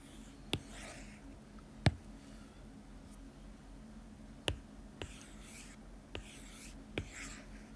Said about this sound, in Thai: เดี๋ยวจะไปเขียนข้างบนนะคะ